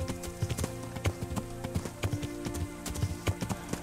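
Horse hooves clip-clop at a steady riding pace in the video game Kingdom Come: Deliverance, close and regular under a bed of game ambience, with no talking.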